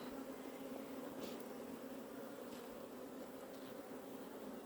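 Honeybees buzzing over a brood frame pulled from a beehive, a steady dense hum held close throughout with a few brief louder passes of individual bees.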